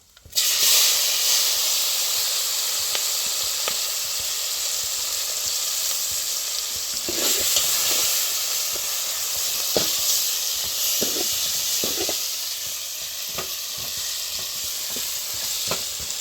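Onions, tomatoes and chilies frying with cumin and ground coriander-cumin in a hot pan, a loud continuous hiss that swells as they go in, with scattered stirring scrapes and no talking.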